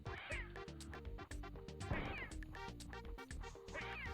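Cats are hurled at the player in the SNES video game The Mask, with repeated cartoonish meows and thwacking hits over a steady, busy chiptune music track.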